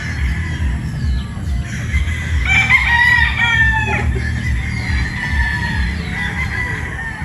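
A Boston Roundhead rooster, a national banded broodstag, crows once in a drawn-out call near the middle, standing out over a steady low hum of farm background noise, with faint clucking around it.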